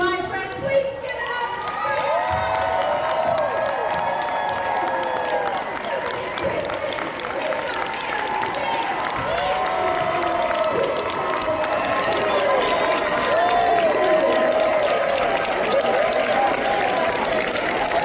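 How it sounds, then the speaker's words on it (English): Large fan convention crowd applauding and cheering continuously, loud and dense clapping with whoops and voices rising over it throughout. "love to hear them cheer for you individually."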